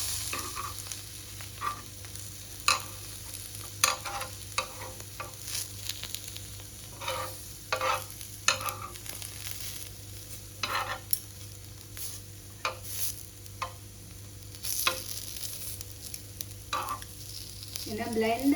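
Chicken stir-frying in a pan with soy sauce and pepper sizzles steadily throughout, with frequent scraping and stirring clacks from a utensil against the pan.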